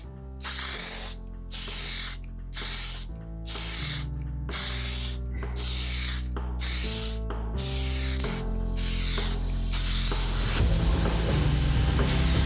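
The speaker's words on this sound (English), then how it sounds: "I'm going to put some of this clear lacquer on top of it and hope that it turns out" A spray can of clear lacquer hisses in loud, close bursts of about a second each with short pauses between, ending in a longer continuous spray, coating a Suzuki GSX600 solo seat conversion.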